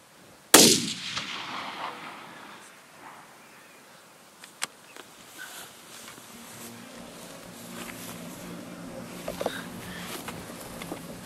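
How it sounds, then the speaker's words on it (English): A single sharp, loud long-range rifle shot at a deer in Australia cracks close by, then decays into a long rolling echo over quiet open ground with faint insect buzz. "Shot. That works. Good shot, Earl."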